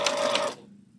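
A sewing machine stitches pieces of a Winter Wonder quilt block in a short, close, whirring burst that stops abruptly, leaving quiet room tone.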